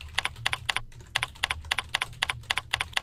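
Rapid bursts of keys clatter on a computer keyboard as an email address is typed in, crisp close clicks in short uneven runs with brief pauses, over a low steady hum and no talking.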